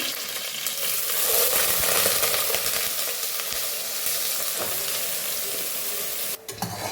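Mutton lung sizzling in a pan with mustard seeds and fresh curry leaves, a steady loud frying hiss with occasional scraping stirs, continuing for several seconds before a brief clatter near the end.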